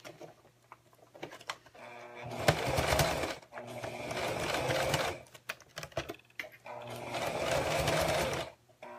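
A sewing machine stitches around a zipper pouch, its motor humming in two long, steady runs separated by short pauses and small handling noises, close and fairly loud.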